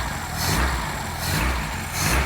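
A 1980s Vauxhall hot hatch, a barn-find survivor with an intact exhaust, idles close by and is blipped up in three short revs, the engine note swelling and falling back to a steady idle.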